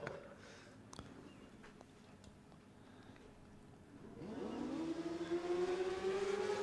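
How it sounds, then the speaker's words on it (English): After a quiet, hissy stretch, a racing motorcycle engine at a drag race at Willowbank Raceway, Queensland, revs up, its whine climbing steadily in pitch and growing louder toward the end. "You can hear the revs climbing."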